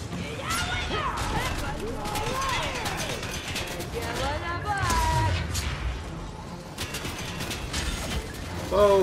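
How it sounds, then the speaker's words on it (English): Rapid mechanical gunfire from an automated turret in the video game Fortnite, a dense metallic rattling that runs through the whole stretch, loud and close, with people talking over it throughout. "Oh, the turret's doing damage."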